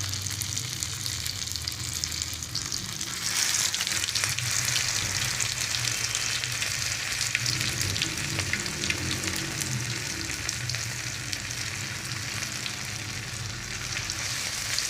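Egg-dipped red chilli tikiyas frying in a pan over low heat, a continuous close sizzle with faint crackling and the occasional shift of food, steady throughout.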